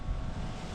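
Steady wind and surf wash across a beach at Malindi, a continuous low roar of gusts buffeting the microphone with breaking waves underneath, no voices.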